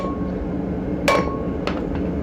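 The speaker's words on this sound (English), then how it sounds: "You're going to take your hammer," A hammer strikes a lug nut threaded onto a wheel stud to drive the stud out of the hub of a 1996 Chevy K2500 truck, giving one sharp metallic clank followed by two lighter taps, close and without speech.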